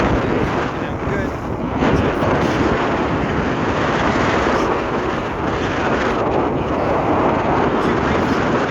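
Steady, loud wind buffeting the microphone on a sailboat on central Lake Okeechobee, Florida, in about 15-knot wind with 20-knot gusts, a continuous roar with slight surges throughout.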